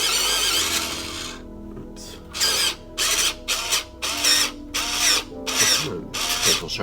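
Electric sharpener grinding in bursts: one long whirring run, then a pause and a series of short buzzing pulses in quick rhythm, close and loud, no talk.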